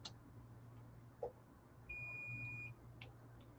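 A multimeter gives a continuity test beep on an electronics workbench: one steady, moderately loud electronic tone lasting under a second, with faint clicks before and after it over low mains hum.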